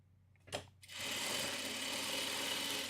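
A sewing machine stitching a quilt block starts up after a brief clunk and then runs at a steady, close, continuous whir for the rest of the clip, with no voices.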